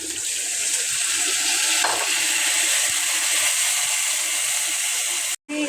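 Ground coriander, red chilli powder and salt sizzle steadily as they are sautéed in a pan for a fish and papaya dish, a constant bright hiss with a few faint scrapes and a brief break near the end.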